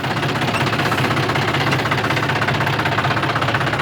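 John Deere tractor engine running steadily nearby, a continuous low throbbing rumble with a fast, even knocking pulse and no pauses, heard on a farm in a village setting.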